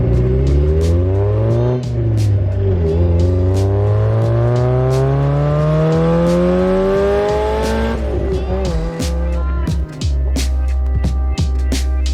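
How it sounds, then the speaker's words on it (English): A car engine fitted with a cheap eBay turbo starts and revs on a roadside on-ramp in the desert. Its loud, close engine note climbs steadily in pitch over several seconds, drops, then surges again, with sharp clicks and rattles throughout. "the car starts"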